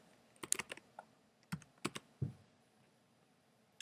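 A handful of crisp computer keyboard keystrokes in uneven clusters, close up and quiet, with pauses between presses and no one talking.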